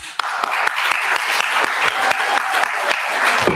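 Steady, fairly loud applause fills a Cape Coral city council meeting chamber, dense overlapping claps with a few sharper hits, sustained throughout.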